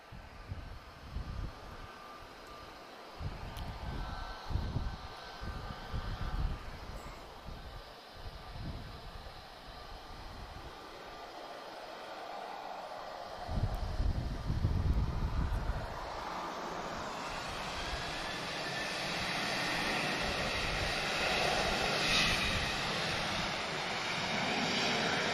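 A Boeing 757 at Lisbon Airport, with jet engine roar rising and falling and then building into a broad, sustained rush that grows louder toward the end, wind noise at times.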